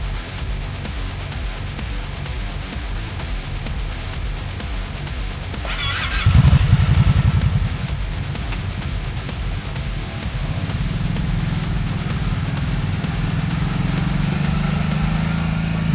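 The water-cooled, single overhead cam, four-valve-per-cylinder V-twin engine of a 2026 Kawasaki Brute Force 750 ATV rumbles steadily, its tone rising from about six seconds into a louder, deeper drone that holds to the end.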